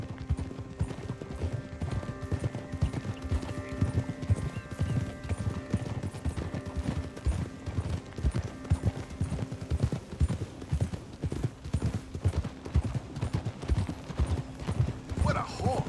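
Horse hooves clip-clopping in a steady walking rhythm in the video game Red Dead Redemption 2, close and clear over soft ambient music, with a brief whinny.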